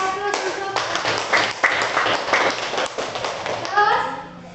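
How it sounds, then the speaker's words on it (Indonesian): Students in a high school classroom give a short round of clapping, a few seconds of hand claps mixed with children's voices chattering over them. "beri aplaus untuk"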